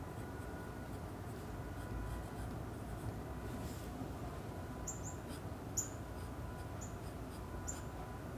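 A pencil drawing on paper, sketching fine facial details, scratches faintly and continuously under a steady background hum, with a few soft chirps near the end.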